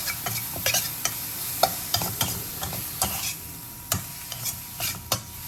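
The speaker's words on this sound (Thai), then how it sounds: "ผัดต่อไปให้สุกนะครับ" Minced pork with lemongrass stir-fries in a pan, a continuous sizzle broken by frequent sharp spatula scrapes and knocks in an irregular rhythm, close and alone.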